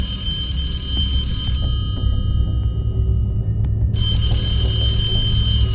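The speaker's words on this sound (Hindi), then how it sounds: "अचानक करण के घर का टेलीफोन बजा" A home telephone rings late at night, a bright electronic trill in two bursts separated by a short pause, steady and fairly loud over a low background hum.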